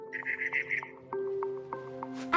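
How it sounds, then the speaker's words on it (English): Barn swallow chirping in the video game What Remains of Edith Finch, a quick run of bright repeated chirps followed by sparse calls over a low ambient musical drone. "It was a barn swallow going back to her nest."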